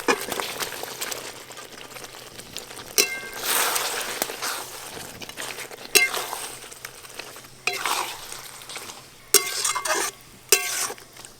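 Fried chicken pieces go into a pan of well-cooked spice masala for chicken biryani, giving bursts of sizzling and scraping stirring that rise and fall close by, with no one talking.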